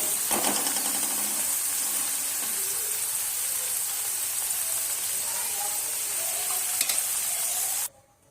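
Crispy fried potatoes stirred in a pan for a Gujarati sesame potato dish, making a steady scraping sizzle that runs close and constant, then cuts off sharply near the end.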